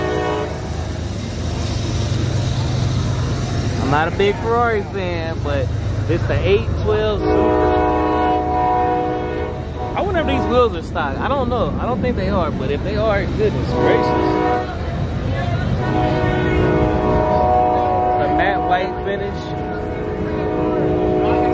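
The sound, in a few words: train passing by with horn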